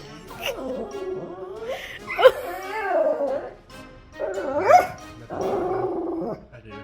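Dog in Montana barking and yipping in several bursts, close and loud, with whimpering, high-pitched whining between barks.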